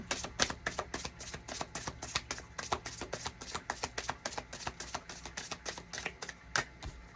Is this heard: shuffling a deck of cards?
yes